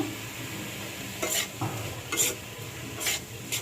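Raw green tomatoes with a pinch of turmeric fry in a pan under a low, steady sizzle, punctuated by several crisp bursts of a utensil stirring and scraping at roughly even intervals.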